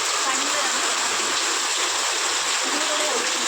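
Heavy rain pours down around a house with water leaking through, producing a loud, dense, unbroken roar of rushing water that fills the whole stretch at close range.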